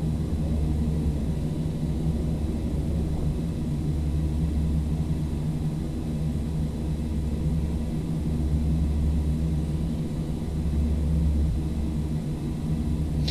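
Steady low cabin drone of a Carenado Fokker 50 turboprop on approach in the Prepar3D simulator, a continuous loud rumble throughout with no distinct gear clunk standing out.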